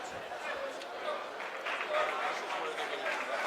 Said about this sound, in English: Just a nice little applause from the crowd